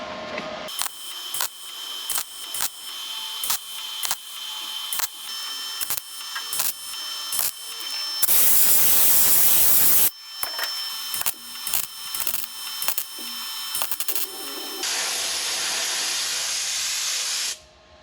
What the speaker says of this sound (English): then I'll finish stitch welding it